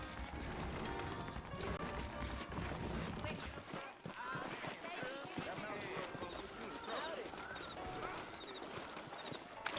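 Horses' hooves clip-clop steadily in Red Dead Redemption, a dense rhythmic clatter running throughout under a busy mix of ambient game sound and talking voices.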